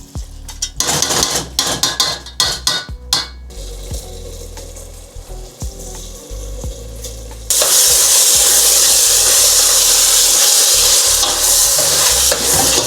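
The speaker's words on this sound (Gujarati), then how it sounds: "હવે ડુંગળી ને ટમેટા ચડી જાય એટલે એને થોડું ક્રશ કરી નાખીશ" Cooked onions and tomatoes are crushed in a pan for Porbandar-style ragda. Close clattering scrapes and knocks from a utensil give way to a loud, steady, hissing sizzle.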